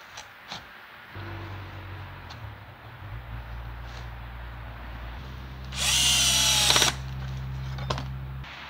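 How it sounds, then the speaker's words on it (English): Power drill working on wooden modular frames, drilling pocket holes and driving pocket screws: a steady low motor hum runs through most of the stretch, broken by one loud, high whining burst near the end, with faint knocks before it starts. "I have to drill a bunch of holes, drive those pocket screws in"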